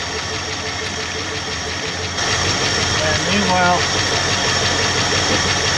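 A 1966 Ford Mustang engine idles steadily after a fuel tank replacement, a continuous mid-pitched rumble with some knocking texture that grows slightly louder partway through, with someone talking over it.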